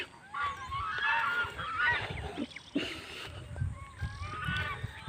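Ducks grazing by a village wetland honk close by in a short, uneven series of nasal calls, with soft background noise between them.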